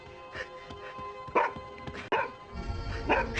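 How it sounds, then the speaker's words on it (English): Several dog barks in a horror movie scene, short and irregularly spaced, with a louder pair in the middle and low rumbling noise building underneath toward the end. "I'll put it over the barks of the dog"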